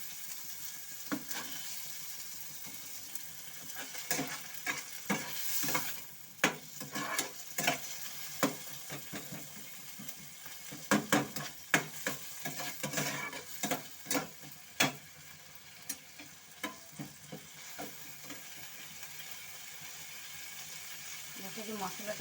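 Chopped onion and tomato stirred in a frying pan for a thin prawn curry, a quiet sizzle with irregular spatula scrapes and knocks, and speech now and then.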